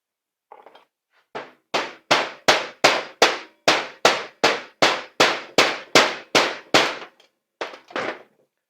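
Metal striking metal on a stuck wheel bearing of a Can-Am Traxter utility vehicle: about fifteen sharp, evenly spaced blows ring out close and loud, followed by a couple of lighter taps.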